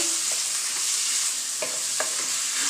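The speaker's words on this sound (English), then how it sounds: "So I'm adding the meat to the pot. Right? Now I'm giving a little stir." Ground meat being stirred in a pot for a Jamaican one-pot meal, a steady sizzle with a few scraping clicks of the spoon, close and alone.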